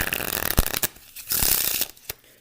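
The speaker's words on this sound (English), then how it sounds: "you can have the spectator shuffle the cards, or you can shuffle" Brief papery riffles and soft snaps of playing cards being shuffled, a few quick bursts close by.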